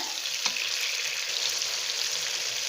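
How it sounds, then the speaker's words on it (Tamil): Two medium tomatoes sauté in a pan for paneer biryani, giving a steady, even hiss of frying that carries on unbroken at close range without voices. "இப்போது இந்த தக்காளி மீடியம் சைஸ் தக்காளி 2 தக்காளி சேர்த்துருக்கேன் இல்லையா, அதுவும் நல்லா வதங்கட்டும்"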